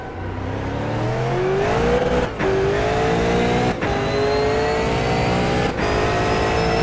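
A V8 Supercar racing engine in a video game roars loudly and close as it accelerates through the gears at the start of a lap, the pitch climbing steadily, with brief dips at each gear change.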